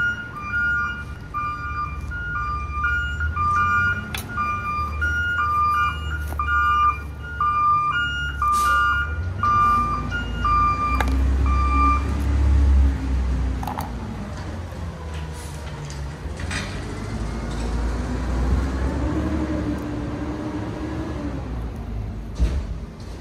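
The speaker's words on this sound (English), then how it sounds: "It's the garbage trucks." Garbage trucks work outside a house, heard from indoors as a low steady engine rumble with repeating high beeps and clanks over about twenty seconds, fairly distant and muffled.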